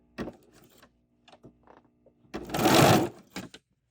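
BERNINA 990 sewing machine stitching quilt rows together, with a few short taps and clicks first, then one loud sustained burst of rapid needle stitching of about a second.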